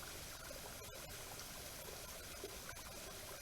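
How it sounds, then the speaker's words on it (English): A small waterfall beside a campsite makes a soft, steady rush of trickling water, faint and continuous with a few light clicks over it. "you can't beat the sounds we're having here right now, you know, the waterfall"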